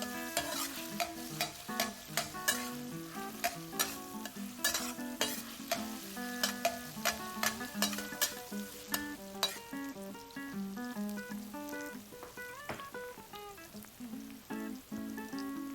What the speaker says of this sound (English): Keep stirring while separating the beans.